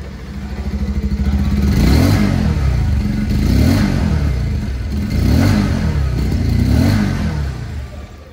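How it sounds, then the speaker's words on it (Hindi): Engine of a 2023 Bajaj Pulsar 150 motorcycle running close by, with a steady mid-pitched thrum that swells and eases in repeated waves like gentle revving, alone without any voices. "यह है इंजन साउंड।"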